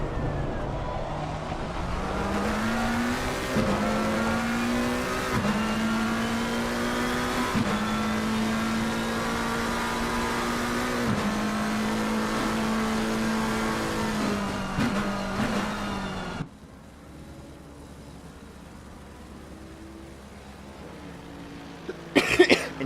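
Racing car engines in a GT racing video game at Laguna Seca whine and rise in pitch through repeated gear shifts, loud and continuous, then cut off abruptly to a quiet hum.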